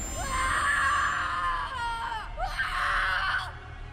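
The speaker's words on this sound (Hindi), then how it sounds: "उसके बाद बस उसकी चीखें सुनाई दी" A horror-story sound effect of a woman's screams: two long, shrill, wavering shrieks separated by a brief gasp, loud and close over a low rumbling ambience.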